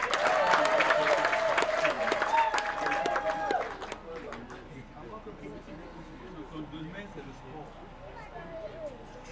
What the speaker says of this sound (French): Applaudissez encore pour les populations de Bois-Nébois.